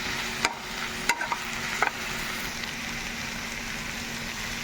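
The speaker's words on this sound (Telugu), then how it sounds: "ఇప్పుడంతా ఒకసారి కలుపుకుందాము కలిసేలాగా." Amaranth leaves frying in a pan as they are stirred: a constant soft sizzle with a few sharp scraping clicks from the utensil near the start, then continuous frying alone.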